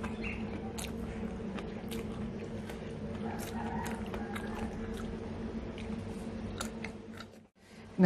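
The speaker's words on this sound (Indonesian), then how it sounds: "Kangkung habis numis terus langsung makan tuh enak kriuk-kriuk." Close, quiet crunching of freshly stir-fried water spinach (kangkung) being chewed, a string of soft irregular crackles and bites over a low background hum.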